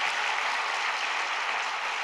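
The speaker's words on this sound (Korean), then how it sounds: "박수로 한번 격려해 주세요." Steady applause from an audience at a church reunification conference, filling the room evenly and continuously with no talk over it.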